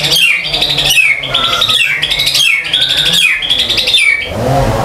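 Loud, close calls of a white-rumped shama repeat in a rapid cycle of harsh, buzzy squawks and rising and falling whistled phrases, with no talking.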